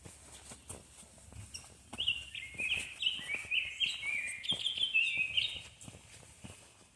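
A bird sings in bursts of bright, rapid chirps along a springtime hiking trail near Gibraltar Rock on the Ice Age Trail, moderately close over quiet outdoor ambience with faint footsteps.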